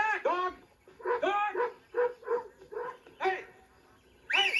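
A dog barks and whimpers in a run of short yelps and whines, several bursts close by, with a person shouting and calling out over it.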